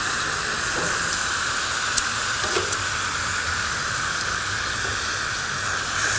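Pork chops searing in a crowded pan for cassoulet give a steady, broad sizzling hiss throughout, with a few small pops and crackles rising above the constant frying noise.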